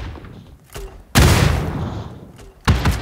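A heavy booming bomb blast in the mobile game PUBG New State erupts and rumbles away, followed by a second sharp bang near the end; faint sounds between them.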